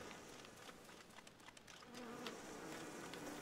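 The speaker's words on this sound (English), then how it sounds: "Stupid bees, go away. Go away, bees." Bees buzz steadily in the video game Ghost of a Tale, a continuous insect drone with a faint tonal hum that thickens and grows a little louder partway through, with no talking.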